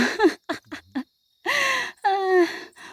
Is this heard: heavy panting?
yes